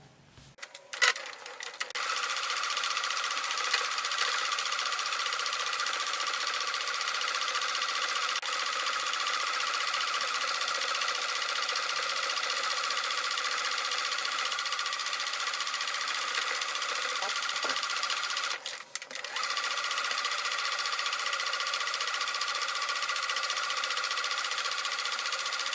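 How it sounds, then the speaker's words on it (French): A sewing machine runs steadily as it stitches a short seam along the edge of a recycled denim bag. The whirring motor is close and continuous, pausing briefly partway through before starting again. "On va juste faire une toute petite couture sur le bord, comme ça."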